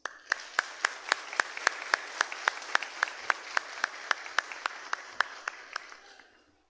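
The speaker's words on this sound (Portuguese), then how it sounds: "recebemos o pequeno Roberto Valentim com uma salva de palmas" A church congregation claps in unison, a crisp steady rhythm of sharp synchronized beats, roughly four per second, over a quiet hall that falls silent at the end.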